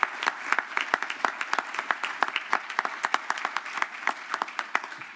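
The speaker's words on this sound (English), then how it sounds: "that deserves a round of applause for your activism at COPE all across the country." Convention audience at a union political action gathering applauding steadily, a dense, even patter of many hands clapping throughout at moderate distance.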